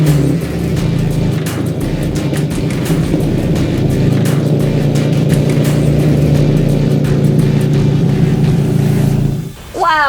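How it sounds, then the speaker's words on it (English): A naturally aspirated V12 in a Lamborghini Diablo SV runs loud and close, holding a deep steady drone with slight swells in revs for about ten seconds before dropping off. "Do you mind if we hear what it sounds like when you rev it?"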